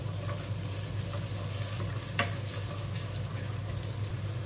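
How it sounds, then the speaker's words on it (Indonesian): Shallots and garlic sautéing in a pan, a quiet steady sizzle with soft stirring scrapes and one sharper clink of a utensil, no voices. "Kita tumis dulu bawang merah"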